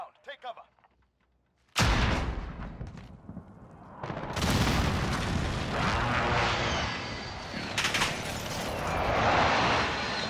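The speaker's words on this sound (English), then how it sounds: "Airstrike inbound. Take cover." Airstrike explosions in Call of Duty: Modern Warfare: after a short quiet stretch, a sudden loud boom gives way to a sustained roar of blasts and rumbling barrages, with further heavy impacts building over several seconds.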